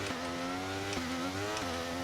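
A Formula 1 car engine in the video game F1 23 hums steadily at moderate volume at the race start, its pitch dipping and climbing again twice, with a synthetic game-like tone.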